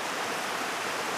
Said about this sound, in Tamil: தண்ணி விழுகிற சவுண்டு போக வேறு எந்த ஒரு சவுண்டும் இங்கே இல்லைங்க